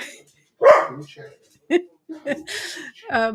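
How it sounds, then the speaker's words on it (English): A single sharp dog bark rings out near the start, followed by people talking over one another. "The dog's barking."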